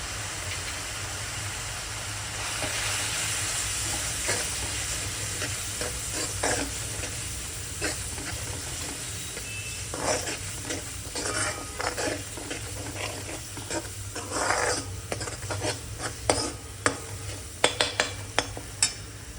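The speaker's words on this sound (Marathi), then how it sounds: "मसाला चांगला परतला गेला आहे." Chili powder and Kitchen King masala sautéed in a pan over a low gas flame for a bottle gourd curry, giving a steady soft sizzle broken by frequent scraping and clinking spoon strokes that grow sharper toward the end.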